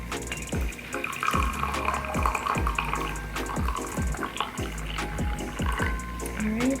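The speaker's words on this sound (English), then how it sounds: "All right, pour some water." Water poured into a cup holding a white tea, coconut and passion fruit tea bag, a steady close trickle and splash running throughout, with soft repeated knocks and rustles under it.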